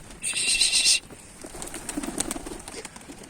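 Pigeons fly overhead with a brief, close burst of flapping wings that cuts off sharply, followed by fainter scattered rustling and soft outdoor background.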